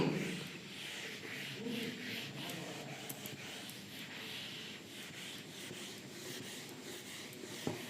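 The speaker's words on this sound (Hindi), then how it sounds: "देखो इसको मैं रब कर रही हूँ ताकि वो ट्रिक आपको समझा पाऊँ अच्छे से" Writing being rubbed off a board with a steady scratchy scrubbing that runs throughout at a quiet, close level, with a light knock near the end.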